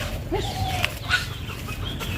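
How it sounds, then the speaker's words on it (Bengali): Chickens cluck and squawk in short bursts nearby, with a soft wing flap amid faint outdoor background noise. "ওই যে দেখুন এখানে মুরগি ঘোরাঘুরি করতেছে"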